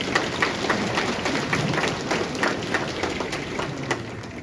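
An audience at a Fresno State University speech claps in a sustained round of applause, a dense crackle of many hands that holds steady and then gently tapers off.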